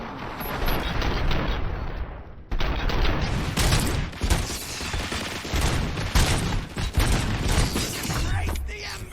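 Sustained volleys of gunfire in the RoboCop: Rogue City shooter game, dense and loud throughout with mechanical clanks mixed in and a brief dip near the start.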